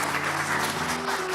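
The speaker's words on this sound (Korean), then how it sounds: "네, 우리 박수 부탁합니다" A church congregation claps together during a Sunday worship service, a full, sustained round of applause with a faint low hum running beneath it.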